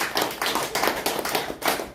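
Scattered audience clapping during a Korean-American alliance church service, broken into irregular bursts of hand claps over about two seconds, moderately loud with no one speaking.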